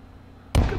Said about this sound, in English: I'm going to grenade this stupid passage.